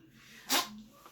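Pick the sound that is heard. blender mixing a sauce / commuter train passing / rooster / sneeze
sneeze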